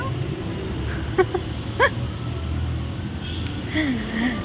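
A dog at a dog cafe in Mangaluru gives a few short yips and a whine, with a rising whimper near the end, over steady low background noise.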